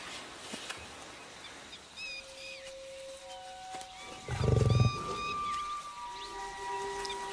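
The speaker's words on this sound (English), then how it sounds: "This is the first time Mina has observed the lion so closely by herself, without her usual team." Asiatic lion in Gir, India, gives a single deep, loud roar midway through, preceded by quieter outdoor ambience with faint bird calls and a few distant tonal cries.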